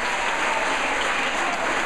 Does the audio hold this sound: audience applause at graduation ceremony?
yes